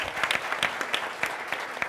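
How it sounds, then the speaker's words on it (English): A crowd gives a panel a round of applause and standing ovation, a dense, lively stretch of many hands clapping close by at steady strength throughout. "let's please give our panel and Tom and Sybil a big round of applause"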